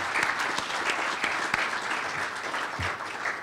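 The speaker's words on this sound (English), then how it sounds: "So if I could just get a round of applause for the" A conference audience gives steady applause at an evening event, a dense continuous patter of many hands clapping at moderate distance, filling the whole stretch without any talking.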